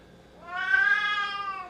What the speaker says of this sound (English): My cat's still letting me know she wants some of the steak there.